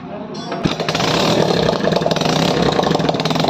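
A Hero HF Deluxe motorcycle engine runs after repair work on its piston, rings and cylinder, starting with a thump and then idling loud and close with a steady rapid putter.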